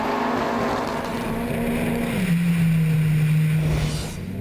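Drift car engine droning at the 2013 British Drift Championship at Teesside, a steady loud note that drops in pitch partway through, held under continuous commentary.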